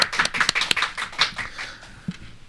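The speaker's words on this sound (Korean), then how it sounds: "큰 박수로 환영해 주십시오." A studio audience on a Korean talk show claps to welcome a guest lawyer. There is a quick burst of close, sharp hand claps that thins out and fades within a couple of seconds.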